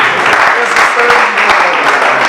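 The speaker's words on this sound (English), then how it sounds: "Put your hands together for him." Loud, dense applause from a crowd at a 50-year school reunion of old boys, sustained throughout with a faint voice or tone showing through.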